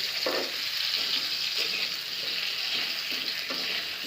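Carrots fry in a pan for a quick datina fish recipe, a loud, continuous close sizzle with occasional stirring scrapes and no talking.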